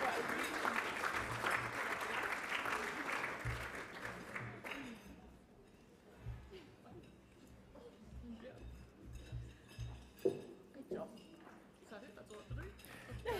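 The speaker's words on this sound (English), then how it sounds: "Congratulations and a round of applause to our squad members." Audience applause at a netball awards ceremony rises loud and dense for several seconds, then fades to scattered claps as a speaker talks over a low background hum.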